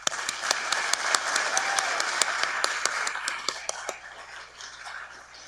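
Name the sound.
audience applause at graduation ceremony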